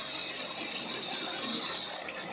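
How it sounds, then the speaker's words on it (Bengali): Coriander water pours into a pan of chicken as a continuous, fairly loud gushing splash that holds steady for a couple of seconds without speech. "আমরা যে ধনের জলটা বের করে রেখেছিলাম ওইটা দিয়ে দেব।"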